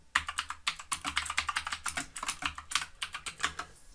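Fast, continuous typing on a computer keyboard during a chat session, with dense close-up key clicks in an uneven rhythm and no talking.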